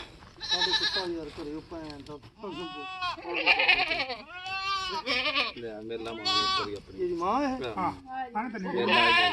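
Goats bleat repeatedly at close range at a goat market in Muktsar, loud wavering cries one after another with short pauses between.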